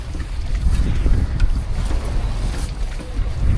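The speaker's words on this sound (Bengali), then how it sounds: "বাতাস আর পানির ঢেউয়ের শব্দ শুধু।" Aboard a fishing boat on the rough Padma River, gusting wind buffets the microphone over churning, slapping river waves in a loud, continuous wash.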